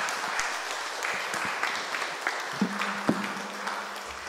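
Guests at a book launch event are applauded by the audience, a moderate, fairly soft round of clapping with a few sharper individual claps and a faint voice.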